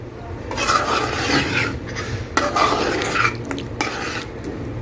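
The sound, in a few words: stirring cream into white chicken korma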